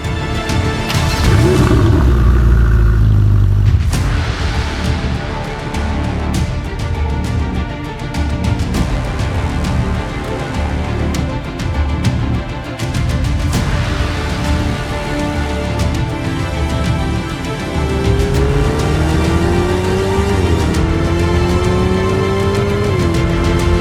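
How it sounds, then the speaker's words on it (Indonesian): Ferrari 488 Pista Spider with its 3.9-litre twin-turbo V8 drives open-top, producing a loud, continuous engine roar mixed with wind rush. The revs climb steadily near the end. "Kombinasi sensasi fun dan atmosfer balap dalam satu mobil."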